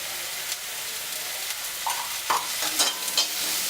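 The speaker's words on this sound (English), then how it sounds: "Stir well." Turmeric and chili powder sizzle in a hot pan while a utensil stirs through them, steady frying crackle with a few scraping strokes, close and alone.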